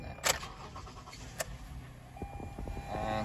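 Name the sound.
2019 Toyota Highlander engine starting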